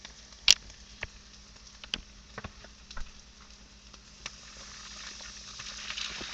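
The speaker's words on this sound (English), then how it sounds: "now we're going to go ahead and place our fajita meat inside of our pan" Fajita meat frying in a pan, a faint steady sizzle with scattered sharp pops and crackles that swell slightly toward the end, heard alone without talk.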